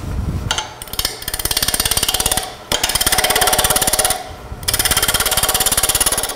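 A wood lathe spins a toy top blank at about 1,000 RPM while it is still out of round, giving a loud, steady rapid pulsing rattle in three long runs separated by brief pauses, with no talk.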